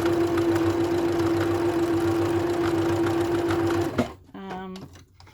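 Vintage sewing machine stitching quilt blocks, a steady close mechanical whir with a strong hum running for about four seconds before stopping, followed by a brief voice.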